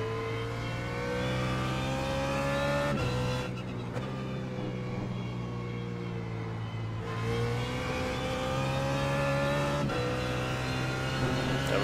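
A BMW Z4 GT3 race car engine in iRacing at VIR, a loud steady high-revving drone that rises through the gears with brief pauses at each upshift, close and continuous with no talk.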